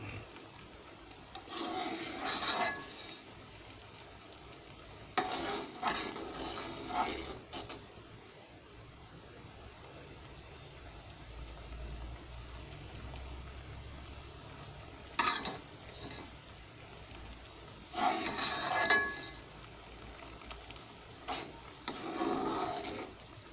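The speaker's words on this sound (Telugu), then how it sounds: "నేను సిమ్లో పెట్టి వండుతున్నానండి కేసరి." Kesari cooks on low heat in a pan, with several short bursts of scraping and stirring against a faint steady simmer between them.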